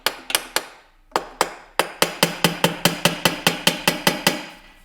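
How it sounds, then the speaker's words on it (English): A hammer tapping a Range Rover Sport engine oil baffle to break its seal: sharp metallic knocks, three quick ones, a pause, then a long, steady run of evenly spaced taps, loud and close. "give it a bit of a love tap to crack the seal"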